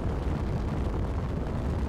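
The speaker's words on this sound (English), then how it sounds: "Is my ship exploding?" A spaceship explodes in a space combat video game, producing a loud, dense, sustained rumbling roar with no distinct onset, filling the whole brief moment.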